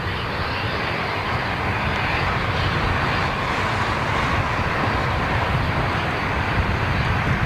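A Thai Airways Boeing 777 departing, a steady, loud, broad jet engine roar that holds unbroken from start to finish, with no voices over it.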